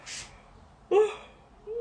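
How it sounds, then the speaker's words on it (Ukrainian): A woman yawns during a live broadcast: a breathy inhale, then a short voiced sigh with a rising tone and a softer hum at the end, quiet and close. "я вже позіхаю"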